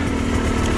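The engine of a Sherco 300 dirt bike runs steadily up close, giving a continuous loud buzzing drone in a short burst.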